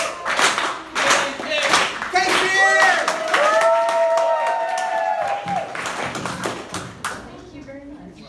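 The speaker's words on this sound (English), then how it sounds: "can we get a slow clap going for Kate?" Audience members at a storytelling night in a Chicago bar clap for the next storyteller, a dense run of claps under a speaking voice and a tonal sound, thinning toward the end.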